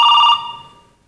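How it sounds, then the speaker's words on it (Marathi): A telephone bell gives one short, loud ring burst that fades quickly, heard alone without talk. "फोन वाजतोय."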